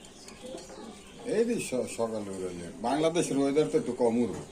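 Teddy pigeons coo in a series of rising and falling throaty calls, close and fairly loud, with a busier burst of overlapping coos in the second half amid a pigeon market.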